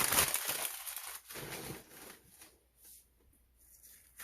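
Butcher paper peels slowly off a sublimated cotton shirt treated with poly spray, a loud crackling tear at first that thins into softer, intermittent sticky rustles as the paper lifts away from the design.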